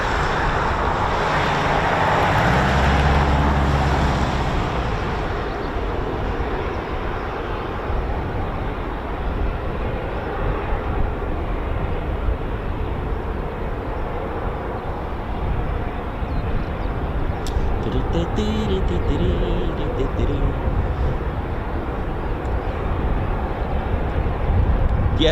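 A heavy military aircraft passes at an RAF airbase with a sustained, far-off rumbling roar that swells early and then holds as a steady drone, with faint clicking near the end.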